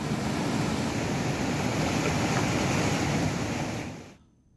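Swollen Mandakini, Alakananda and Pindar rivers in flood in Chamoli, Uttarakhand, after heavy rain: a loud, steady roar of rushing water fills the scene, then drops away abruptly near the end.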